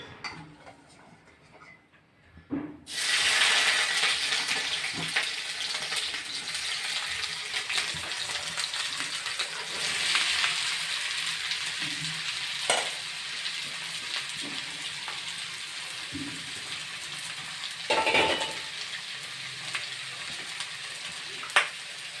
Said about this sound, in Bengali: গরম হলে আমি লঙ্কা দিব, পেঁয়াজ দিব, আর মোটামুটি বেগুন কাটা আর আলু কাটা সমস্ত কিছু দিব। দিয়ে করে ওটাকে ভাজবো।